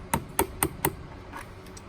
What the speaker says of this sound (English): You can just hammer that back in.